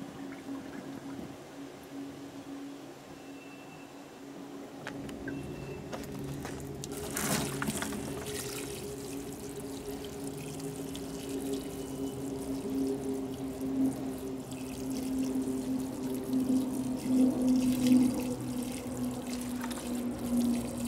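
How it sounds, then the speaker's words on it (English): Water pours into a bucket in a steady outdoor stream for a fig tree air layer being soaked, running continuously with a faint rising gurgle and no talking. "put it in this bucket and put some water in here."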